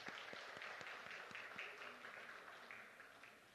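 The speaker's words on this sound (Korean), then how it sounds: "박수 부탁드립니다." A church congregation applauds after a prayer during a sermon on Matthew, with steady clapping filling the room for several seconds and easing off toward the end.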